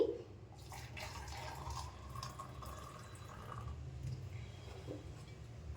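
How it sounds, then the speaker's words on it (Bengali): Milk is poured into a container in a kitchen in the morning, producing a faint, continuous liquid trickle and fill sound over a low background hum. "ওর জন্য এখন এই দুধ ঢালছি"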